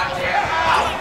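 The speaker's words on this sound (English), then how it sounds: "Oh my gosh, the crowd is going nuts." A dense, loud crowd roars and cheers through a Super Smash Bros. Wii U tournament top-eight match, with voices blending into a continuous excited wash.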